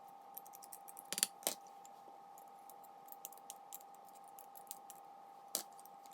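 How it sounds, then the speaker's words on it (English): Peeled garlic cloves pressed through a garlic mincer for vegan cream cheese, a series of faint, sharp clicks and squeezes scattered irregularly over a quiet kitchen background. "Next, peel it and put it through your mincer."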